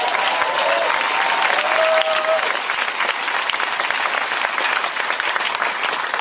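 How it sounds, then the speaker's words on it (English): Loud, dense applause from a crowd at a Republican presidential campaign rally in South Burlington, sustained and even throughout, with faint cheering mixed in. "Can we get a round of applause for that?"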